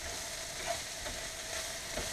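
A quiet, steady sizzle of chopped mushrooms frying in a pan, with a few soft scrapes as they are stirred. There is no talking.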